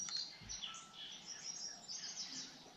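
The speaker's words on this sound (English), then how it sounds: "you're probably, hearing some bird sounds from this video and last video in the background" Faint birds chirping and twittering outdoors in the background, soft scattered calls over a low steady ambience, with no talk.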